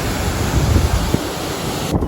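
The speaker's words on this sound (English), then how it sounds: "We arrived at a waterfall." Continuous roaring rush of a waterfall in an Icelandic national park, heard close and fairly loud, with wind buffeting the microphone and no speech.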